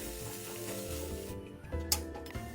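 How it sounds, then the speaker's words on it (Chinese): Ingredients for a purple sweet potato sago cake being stir-fried in a pan, a quiet continuous sizzle with a sharp scrape or clatter near the end, close and without talk. "再继续炒一炒，在所有食材炒熟后就能熄火"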